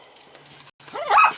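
A dog gives a few short yips and whimpering barks close by, in a brief burst with a moment of silence between sounds.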